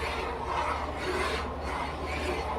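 Sago pearls being stirred into rice kheer in a pot over a low flame, a steady scraping rub that runs continuously and close, with no talk over it.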